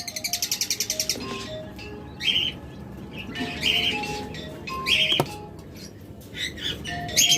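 Caged pet budgerigars, including albinos, chirping and tweeting: rapid repeated chirps at first, then scattered bright calls and squeaks from several birds nearby, with a faint voice in the background.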